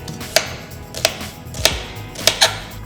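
A knife slices onions on a board in five sharp, evenly spaced chops about half a second apart, close and clear with nothing else around them.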